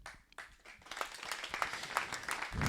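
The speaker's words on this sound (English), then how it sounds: "another round of applause" A small audience at a church entertainment event gives a round of applause, sparse claps at first that build into steadier, fuller clapping, with a low rumble near the end.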